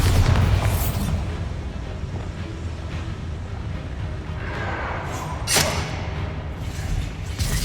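A Bombarda spell explosion in Hogwarts Legacy, a deep booming blast with a rumbling tail filling the scene, followed later by a sharper impact burst amid ongoing combat noise.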